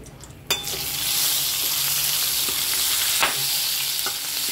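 Star anise, dried chili and fenugreek seeds hitting hot oil, a sharp burst of sizzling that settles into a steady close hiss, with a couple of soft stirring clinks.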